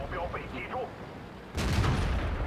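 A light tank's cannon fires gold premium rounds in World of Tanks, one sharp loud blast that booms and rumbles out after quieter game sounds and faint speech.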